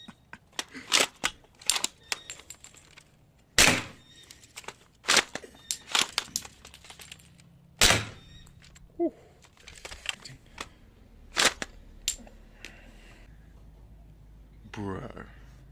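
Kirin Type-A shell-ejecting bolt-action toy sniper rifle firing, a series of sharp snapping shots scattered irregularly among clicks and handling noises of the bolt, with a person talking at times.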